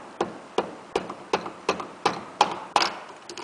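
A hammer handle pushes a piston down into a small engine cylinder through a ring compressor, giving eight evenly spaced sharp taps, close and moderately loud, with no talking.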